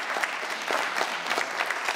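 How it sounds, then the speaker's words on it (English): Applause from a small group during a personalised fitness programme session, a soft, fairly quiet patter of continuous clapping with no pause. "So a round of applause for that."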